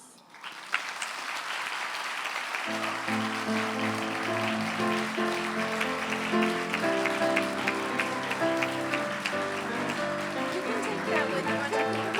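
Sustained applause from an audience at an awards ceremony, a dense continuous wash of clapping that swells in quickly and holds steady, with music playing underneath throughout.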